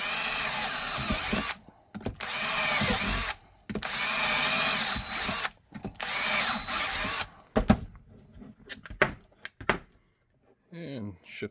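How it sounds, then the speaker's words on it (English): Power drill boring a series of holes while fitting a Level 2 pancake holster with a triple mag carrier, loud whining bursts of a few seconds each separated by short pauses, then quieter clicks and handling noises. "Drill away."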